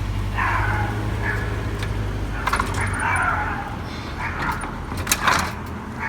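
Outdoors, a Sondors fat-tire e-bike is lifted and set down into a Saris Freedom Superclamp 2 hitch rack, with metallic clanks, rattles and knocks over a low rumbling background.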